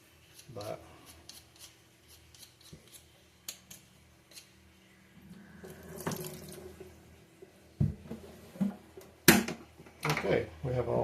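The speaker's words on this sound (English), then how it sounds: "we have all our potatoes washed and peeled" Potatoes being washed in a kitchen sink under a running tap, with intermittent splashing and clattering that grows busier and louder toward the end.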